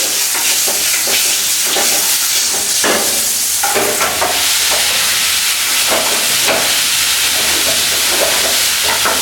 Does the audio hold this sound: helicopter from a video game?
no